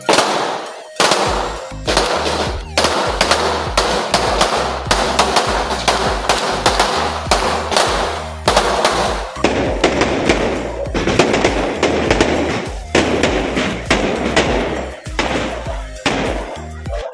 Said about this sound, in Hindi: आपने देखा बाहर बम फूट रहे थे